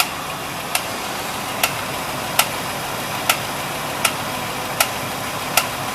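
1973 Trans Am 455 V8 engine idling with the air cleaner removed and an abnormal noise, a steady rumble broken by a sharp tick or pop recurring about every 0.8 seconds.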